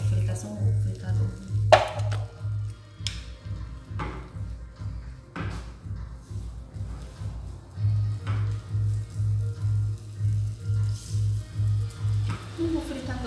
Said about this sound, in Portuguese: Vou fritar só um ovo, fritador.